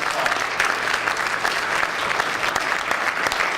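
An audience at a college elevator pitch competition applauds the contestants, a continuous wash of many hands clapping at an even level throughout, heard from a little distance.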